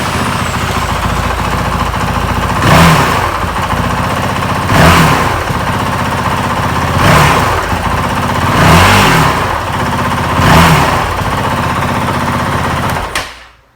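A Honda CRF450L engine runs loud and close, its steady idle broken by five evenly spaced blips of revving roughly every two seconds before it cuts off.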